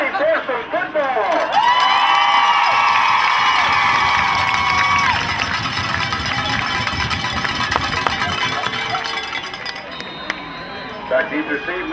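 A Friday-night high school football crowd cheers and shouts loudly for several seconds, swelling after an announcer's amplified voice and then tapering, with a low engine-like rumble underneath.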